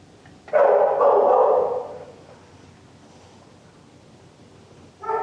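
An adoptable shelter dog in a yard lets out a loud, rough bark-like burst lasting over a second, then quiet outdoor hiss, ending with a brief higher yip.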